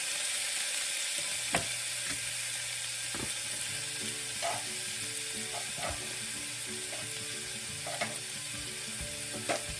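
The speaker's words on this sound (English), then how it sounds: "now that the bacon's cooking and the onions are losing the color" Bacon and onions fry in a pan with a dense, steady sizzle close by. Occasional clicks and scrapes of stirring cut through it, and no one speaks.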